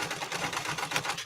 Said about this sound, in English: Okay, I see problems with this sewing machine.